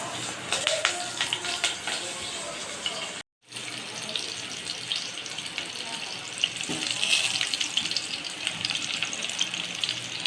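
Hot oil in a home kitchen, seasoned with cumin and asafoetida, sizzles as stuffed brinjals are added, a steady bright crackle that runs on with a brief silent cut partway through.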